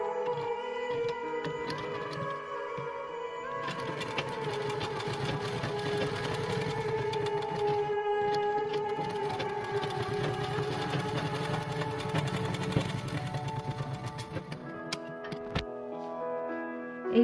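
Sewing machine stitching blouse fabric with piping, a steady close mechanical whirr with a fast regular ticking that holds for most of the stretch, then slows and stops near the end.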